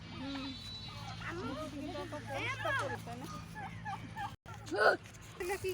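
Turkeys kept among poultry gobble in a nearby yard, bursts of warbling calls rising and falling over steady background noise while people talk over them throughout.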